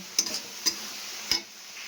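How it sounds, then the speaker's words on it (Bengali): Potatoes being stirred and sautéed in a spice masala, with three sharp spatula taps against the pan over a faint, even sizzle. "তো আলুগুলো আমি দিয়ে দিয়েছি দেখো এবার বেশ খানিকক্ষণ আবার কষাবো"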